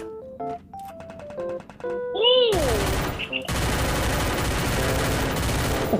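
Free Fire video game: a run of electronic beeps and tones gives way to loud, dense bursts of rapid automatic gunfire that continue almost without a break.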